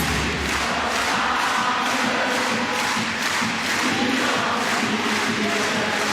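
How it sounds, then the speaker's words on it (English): A handball arena crowd at a world championship final between Norway and Denmark is on its feet, cheering in a loud, sustained roar with rhythmic pulses of chanting and thumping throughout. "The crowd are on their feet."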